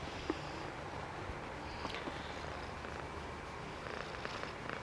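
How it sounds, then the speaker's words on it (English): A cat being petted purrs in a soft continuous rumble close by, with occasional faint rustles and small clicks, and no talking. "She has a lovely purr going on now."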